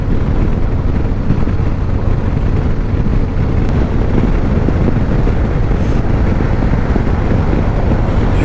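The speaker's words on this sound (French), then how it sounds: "On entend plus le vent que le moteur ou l'échappement." Heavy wind roar buffeting the microphone while riding a 2024 Harley-Davidson Road Glide, loud and continuous rumble that drowns out the quiet stock engine and exhaust, no talking.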